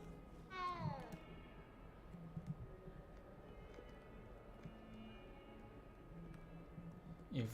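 A cat in the video game Hogwarts Legacy meows twice, a clear rising-and-falling call near the start and another at the very end, over a quiet low background rumble.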